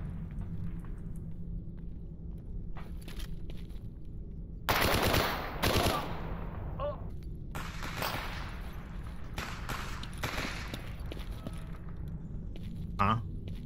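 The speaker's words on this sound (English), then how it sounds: "Man is actually shooting at me through this gap." Gunfire in the STALKER video game: sharp bursts and single shots crack out at intervals, loud and close, with quieter stretches between them and occasional distant pops.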